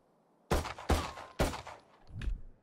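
Gunfire in a video game as rounds are shot through a wooden bench or wall: three sharp, loud shots spaced roughly half a second apart, then a softer, duller fourth report, with no talking.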